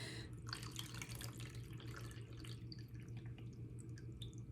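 Water pours steadily into the reservoir of a Scentsy diffuser, a continuous trickling splash with faint drips, close up and alone with no talking.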